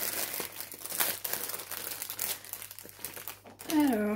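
Plastic packaging of a rhinestone kit crinkling and rustling close by as it is opened, in irregular bursts under a soft speaking voice, ending with a brief higher voice.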